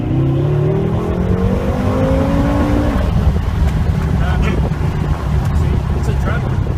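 A Bugatti engine under full throttle, a loud, close, rising roar that climbs steadily in pitch for a few seconds and then holds at a sustained high rev, with wind rush and a voice talking underneath.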